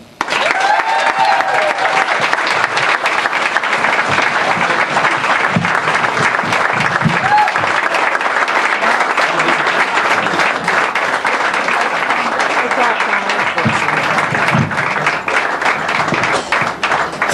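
A large audience at the 2011 Red White and Bid event applauds speaker Tyler Lagasse with loud, dense, sustained clapping that fills the room for the whole stretch.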